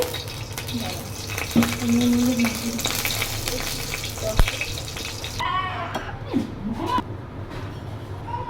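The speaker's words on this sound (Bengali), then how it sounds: "কড়াইটা গরম হয়ে গেছে, আমি তেল দিয়ে দিলাম" Oil heating in a hot wok for frying fish crackles with a moderate, uneven sizzle, mixed with clattering kitchen sounds and a brief splash of water near the end.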